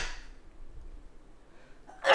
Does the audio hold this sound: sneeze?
yes